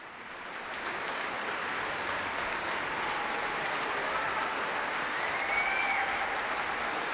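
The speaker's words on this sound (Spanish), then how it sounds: "El público que nos acompaña en esta ocasión, aquí en la sala de conciertos de Nezahualcóyotl, reconoce con su entusiasta aplauso" Enthusiastic applause from a concert hall audience at the Sala Nezahualcóyotl after a Dvořák cello concerto with the UNAM Philharmonic, a dense, steady clapping wash that swells slightly and holds throughout.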